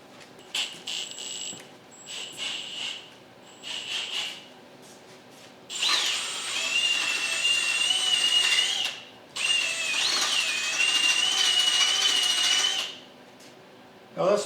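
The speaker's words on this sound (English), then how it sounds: "Happen to have this wire brush laying around that already fits the drill." Electric drill spinning a wire brush to clean a 318 Poly V8 engine from a 1964 Dodge Polara, with a few short whining bursts and then two long, loud, sustained runs with a steady high whine.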